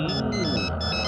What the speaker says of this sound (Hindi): रंगा का फोन है।